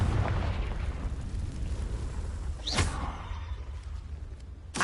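Confringo spell explosion in the video game Hogwarts Legacy, a rumbling boom with a quick whooshing burst partway through, mid-level and continuous, with another hit at the end.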